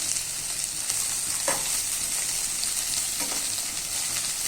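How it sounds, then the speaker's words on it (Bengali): Soya chunks frying in a pan make a constant close sizzle with a couple of brief scraping stirs partway through, and no one speaks. "এটা ভালো করে ভেজে নিতে হবে।"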